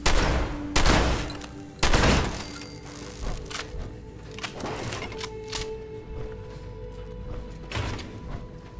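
Combat shotgun blasts in the video game Fallout 76, three loud booming shots in quick succession at the start, followed by scattered quieter impacts and clanks, and no voices.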